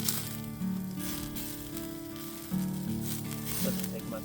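Food frying in a pan at a camp cabin, a faint, steady sizzle with some crackle, accompanied by humming tones and brief soft noises.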